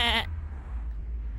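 A single close sheep bleat rings out loudly at the start, then cuts off into a low background hum.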